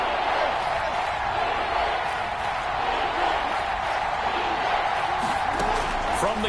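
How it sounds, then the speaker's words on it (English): A football stadium crowd builds noise before a big third down in a Ravens game, a broad, steady roar of many voices holding at a moderate level throughout. "The crowd getting into it as we come up on a big 3rd down."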